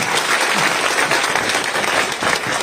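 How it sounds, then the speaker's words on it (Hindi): A crowd at a community political gathering in Shivpur, Varanasi claps loudly and steadily throughout, a dense continuous applause with no speech over it. "जोरदार ताली बजाकर स्वागत करें"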